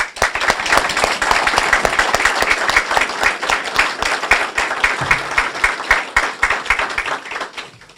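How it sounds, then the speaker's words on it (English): A loud, sustained round of applause from an audience at a police chief's awards ceremony, many hands clapping densely and steadily for several seconds before tapering slightly at the end. "I think we should give them a loud round of applause."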